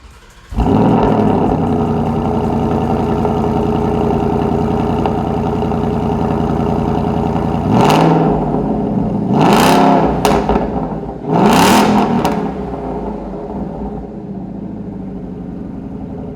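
A 2018-2019 Ford Mustang GT with a Ford Performance by Borla Extreme catback exhaust and quad tips idles with a loud, steady burble, then blips the throttle in three sharp revs before settling back to idle.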